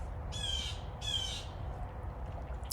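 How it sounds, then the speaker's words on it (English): A bird gives two short, harsh squawks in quick succession over a steady low rumble of background noise. "that bird wants you to sing your song"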